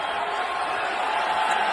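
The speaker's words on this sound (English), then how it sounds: "Crowd loved it." Basketball arena crowd cheering at a conference tournament semifinal between Louisiana and WKU, a steady, loud wash of massed voices and noise that holds evenly throughout without a break.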